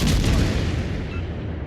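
Naval artillery from warships in World of Warships Legends, a dense, heavy booming barrage that starts loud and slowly decays over under two seconds, with no voices.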